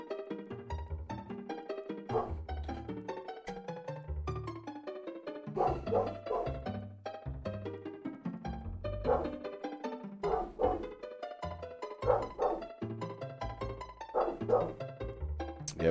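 A dog barks repeatedly and insistently indoors, a steady run of loud, close yaps and bow-wows with short pauses between volleys, continuing throughout.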